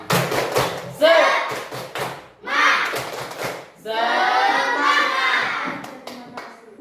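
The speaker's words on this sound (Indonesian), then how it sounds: "mari kita tepuk semangat dulu ya" A school class claps together in a rhythmic 'tepuk semangat' cheer, bursts of near, loud hand claps and thumps in patterned sequences, with children's and a teacher's voices chanting along between and over the claps.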